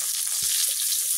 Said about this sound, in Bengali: আলহামদুলিল্লাহ আমার মাছটি এখন ভাজা হয়ে গেছে